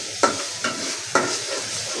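Rohu fish cooking in a frying pan sizzles steadily up close, punctuated by three sharp scraping strikes of a utensil against the pan, with no one talking.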